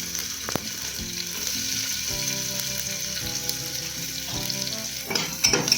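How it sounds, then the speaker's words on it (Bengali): Chopped garlic frying in a pan gives a steady, close sizzle that holds throughout, with a few utensil clinks and a louder scrape near the end. "তারপর রসুনটাকে আমি হালকা করে ফ্রাই করে নেবো"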